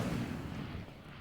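An Incendio fire spell cast in the Hogwarts Legacy video game bursts out as a loud, deep rumbling whoosh that swells briefly and then fades away over about a second.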